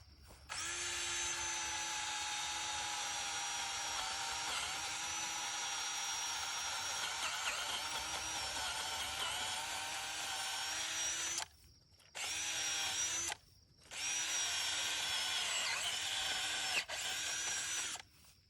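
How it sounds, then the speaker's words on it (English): A power drill fitted with a soil auger bores a hole into subsoil, whining steadily and loudly for several seconds, then stopping and restarting in short bursts near the end. "and drill a hole about into the subsoil"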